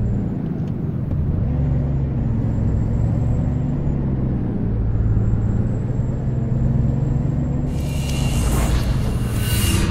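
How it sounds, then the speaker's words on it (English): A steady low truck engine rumble in American Truck Simulator, from a Peterbilt 389 with a Caterpillar heavy haul chassis, drones throughout, with a faint high whine above it and a hiss of air bursting in near the end. "Truck is making my house shake, and it's not even up that loud."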